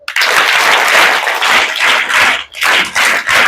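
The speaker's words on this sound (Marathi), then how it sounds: "मग टाळ्या वाजवा." An audience of schoolchildren at a school speech event claps loudly and close by, a dense burst of applause with brief dips and swells, with no talking.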